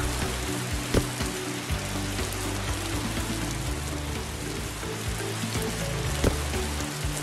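Steady rain in the video game Bloxburg patters and hisses continuously with occasional louder drops, over a low droning background; no voices.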